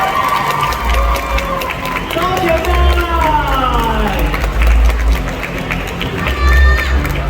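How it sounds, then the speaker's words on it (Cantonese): A mall crowd at a Parent's Day meet-and-greet with four artists cheers and shouts loudly in bursts, with scattered clapping beneath, while an amplified voice speaks over the noise. "咁再次俾一個最爆燈嘅掌聲俾我哋4位 artist。"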